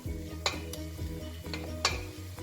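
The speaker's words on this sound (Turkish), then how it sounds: "yine de öncelikle böyle biraz harmanlayıp ondan sonra da yağını vereceğim" A spoon stirring and scraping ingredients for meaty sumac spinach soup in a pot before oil is added, a few sharp clinks against the pot over a soft humming kitchen background.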